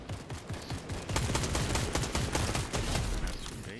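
Rapid gunfire rattles in the video game Fortnite, a dense burst of repeated sharp shots at a fast rhythm over a few seconds, fairly loud and without talk.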